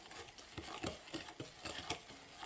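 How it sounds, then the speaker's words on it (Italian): A spoon stirs chocolate tart batter of sugar and butter in a bowl, with repeated scraping strokes in a steady, moderately quick rhythm, close and fairly quiet, with no talking. "Dobbiamo mescolare fino a rendere il composto omogeneo."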